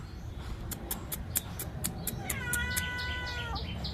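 A cat gives one drawn-out meow, heard over a steady run of rhythmic clicks and a constant background hiss.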